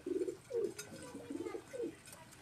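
Rooftop flying pigeons kept by a hobbyist coo in a short series of low, throaty calls, four or five in quick succession, close and clear against quiet surroundings.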